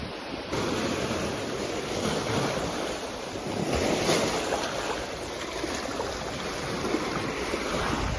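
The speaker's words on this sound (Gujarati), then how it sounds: "ભાઈ ખતરનાક વેળ આવી દીધો" Sea waves break and wash continuously on the beach at Tithal or Parnera, a steady loud roar of surf mixed with wind buffeting the microphone, with no one speaking.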